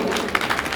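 Audience applause at a Hindi poetry recital, a short dense burst of clapping from a crowd, moderately loud and steady throughout.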